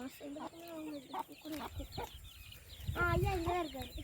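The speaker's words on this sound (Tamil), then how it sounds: "இது ஒரு கோழி இது ஒரு கோழி இன்னொரு கோழி இங்கே அந்த பக்கம் இருக்கு" Hens clucking close by in short, throaty bursts, several birds calling over one another, with a louder cluck near the end.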